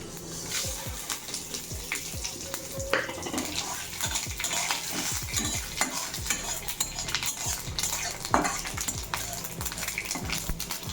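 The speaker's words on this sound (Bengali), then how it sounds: "তেলটা গরম হয়ে গেছে, ফোড়নটা দিয়ে দিই।" Whole bay leaves, black mustard seeds, five-spice and torn dried red chillies crackle and sizzle loudly in hot oil in a home kitchen, with brisk stirring and scraping throughout and no voices.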